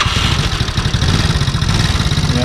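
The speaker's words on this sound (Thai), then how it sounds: "นี่เสียงวาล์วดังเลยเดี๋ยวต้องตั้งวาล์วหน่อยวาล์วห่าง" A Yamaha Fino scooter engine idles close by after reassembly, its loose valve clearance producing a loud rapid ticking clatter over a steady low putter, with no talking.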